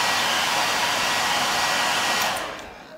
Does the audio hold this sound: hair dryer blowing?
yes